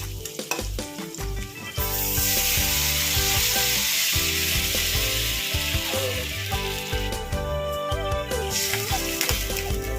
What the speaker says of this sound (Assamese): ভজা হৈ গৈছে, এতিয়া মই পানী দি দিম ইয়াতে